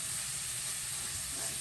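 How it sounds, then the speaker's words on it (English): Chicken livers and ground beef browning in a pan for Cajun dirty rice, giving a steady, moderately quiet sizzle and hiss with no talking. "we're going to let this brown a little bit, those chicken livers and the ground beef"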